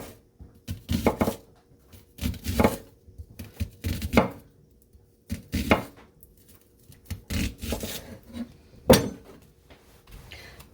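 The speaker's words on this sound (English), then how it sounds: "I've peeled my onion, and now I'm going to cut that into rounds" A knife slicing a peeled onion into rounds on a cutting board, about a dozen separate crisp chops in an uneven rhythm, close and clear with quiet gaps between cuts.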